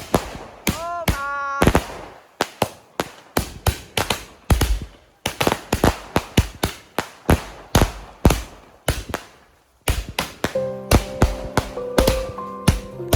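Rapid bursts of Vishu celebration fireworks, sky shots fired one after another in a loud crackling series of sharp bangs, some with whistling rising tones, continuing steadily with brief pauses.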